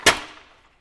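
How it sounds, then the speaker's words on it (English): A sliding screen door from Costco is pulled across and knocked shut with one sharp, loud bang whose ring fades quickly. "pull it across and give it a little bang like that"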